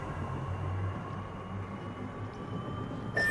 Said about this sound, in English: Train over there, if we need it.